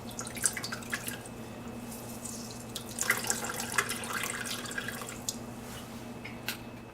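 Homemade soy milk drips and trickles from pulp being squeezed, a close, light patter of droplets and small splashes over a low steady hum, with no one speaking.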